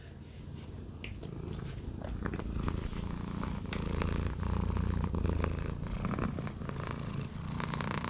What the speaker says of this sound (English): She always likes to give me a purr session